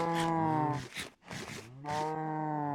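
Cows on an automatic micro farm in a video game moo several times in close succession, loud and near, each call a drawn-out low bellow with a short break in the middle.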